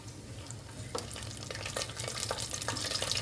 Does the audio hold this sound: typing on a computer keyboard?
no